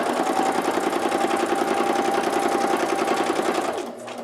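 A sewing machine set to a very short stitch length runs rapidly through paper pages, loud, with an even, fast mechanical chatter that winds down and stops just before the end.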